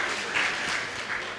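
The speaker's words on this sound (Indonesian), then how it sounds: "Sekali lagi boleh dong kita berikan tepuk tangan for Howard Lawrence." Audience applause at a graduation ceremony and school anniversary celebration in Jakarta, a steady wash of many hands clapping at moderate volume throughout, with no speech over it.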